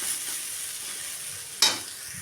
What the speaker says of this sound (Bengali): আবার ভালো করে নাড়িয়ে নেবো